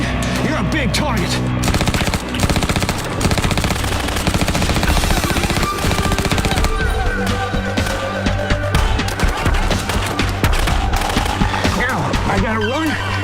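A SAW light machine gun laying down suppressive fire, dense continuous bursts of rapid gunshots that barely pause, loud and close throughout.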